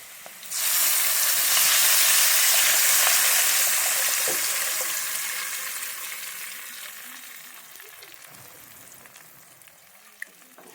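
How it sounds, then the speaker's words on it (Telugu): Small fish curry is poured into a pan of golden fried onions and sets off a loud, bright sizzle that bursts in at once, then slowly fades to a quieter hiss, with a few faint clinks near the end. "ముందుగా రెడీ చేసి పెట్టుకున్న చిన్న చేపల పులుసు అందులో పోసేస్తా"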